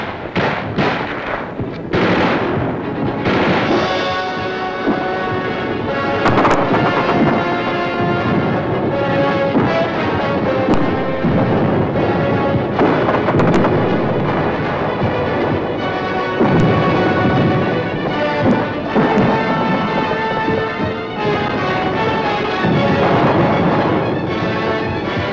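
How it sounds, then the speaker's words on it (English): Continuous heavy gunfire from Vietnam War street fighting crackles and booms without pause, dense overlapping shots echoing loudly as if between buildings. "Gunfire roared in the streets"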